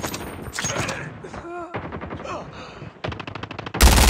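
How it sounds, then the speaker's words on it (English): Sentry gun in Call of Duty Mobile firing rapid automatic bursts, loud fast rhythmic shots in the last second, after gunfire and game noises mixed with voice-like in-game callouts. "Sentry gun deployed."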